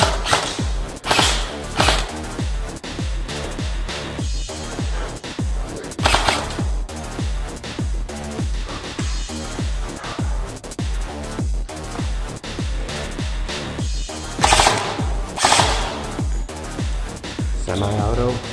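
Suppressed Delta Armory AR15 DMR rifle firing semi-auto, a long run of sharp, evenly spaced muffled shots with several louder cracks, close and loud with no talk over it.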